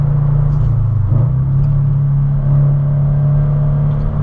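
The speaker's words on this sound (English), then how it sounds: "Fourth gear. Do a quick downshift to third." A tuned Subaru BRZ with an aftermarket JDL header drives at night, its engine droning loud and steady from inside the cabin. A short dip in pitch marks a quick downshift from fourth to third gear.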